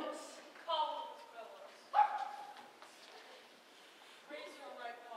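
Dog barking in a courtroom setting, a couple of sharp barks standing out amid people talking, with short yips and whimpering mixed into the voices.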